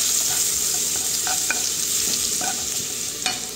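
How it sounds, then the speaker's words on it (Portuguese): Food sautéing in a hot pot on a home stove, a continuous sizzling frying hiss broken by scattered scraping and stirring knocks from a utensil, close and fairly loud, with no talking. "Agora vou deixar ela refogar mais um pouco ainda"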